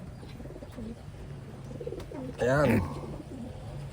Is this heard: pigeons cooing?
yes